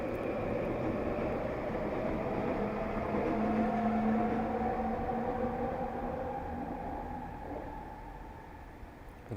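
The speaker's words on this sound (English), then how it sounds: "the trains are louder" Trains pass in the distance, a faint, continuous low rumble with a drifting whine that slowly fades over several seconds.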